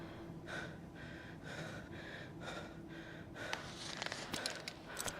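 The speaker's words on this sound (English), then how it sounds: "I can hear her breathing getting heavy." Heavy, rhythmic panting from a person climbing a rocky trail, close and regular breaths, followed by scuffing and clattering movement noises.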